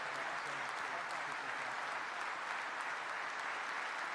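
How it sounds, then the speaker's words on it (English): An audience at a U.S. Army ceremonial address applauds a newly promoted sergeant with sustained, even clapping that sounds somewhat distant and subdued in a large hall. "How about a hand for the newest sergeant in the United States Army?"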